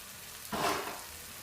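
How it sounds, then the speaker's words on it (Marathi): Tomatoes dropped onto green chili frying in a pan for potato-spinach bhaji: a brief burst of sizzle that swells and settles within a second, then a quiet low hiss. "टमाटर टाकून छान परतून घ्यायचं, लाल होऊ द्यायचं."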